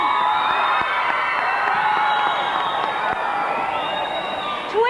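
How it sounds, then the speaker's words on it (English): A large indoor crowd at a 1988 New Zealand telethon in Auckland Town Hall cheers and claps, a steady dense roar of applause and shouts held at full strength for several seconds. "that deserves a big round of applause."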